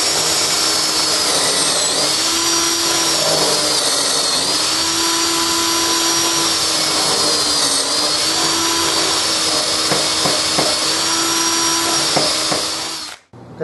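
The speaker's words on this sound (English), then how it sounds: "I've got a drill bit with a stop collar on it. I just need to plunge down into there and create those holes." A power drill fitted with a stop collar whines steadily while boring dowel holes in wood for a small secretary hutch, the motor pitch dipping as it plunges in before the drill cuts off abruptly at the end.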